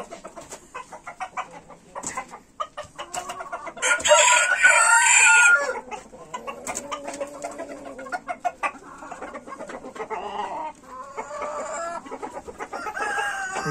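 Rooster and hens inside a chicken coop with brown Leghorn-type birds, a loud crow rising over busy clucking and scattered squawks, close by and continuous.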